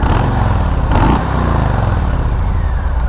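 2020 Harley-Davidson Low Rider M8 engine on stock pipes, running close by with a steady, fairly muted low-pitched rumble and a brief blip of revs in the middle, with no talking.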